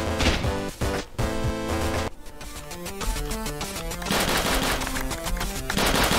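Rapid, loud bursts of gunfire from a gun in the video game Inglorious Aztecs, heavy and continuous over layered game sounds, with brief pauses between volleys and no talk.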